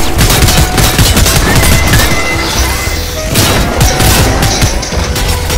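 Rapid sustained gunfire from a briefcase turret in the video game Fortnite rattles loud and close, with crashes and impacts amid the barrage and a brief lull before shooting resumes.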